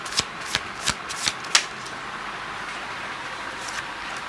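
Tarot cards are shuffled and drawn, with a run of five crisp riffling flicks in quick succession up close, then a quiet stretch with a faint rustle.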